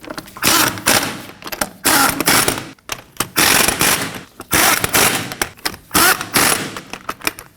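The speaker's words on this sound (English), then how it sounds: "we'll snug those down in a star pattern" Bursts of an impact wrench rattle loudly and close, several quick runs with short pauses, as lug nuts are snugged down in a star pattern on a 2015-2024 Ford Edge wheel.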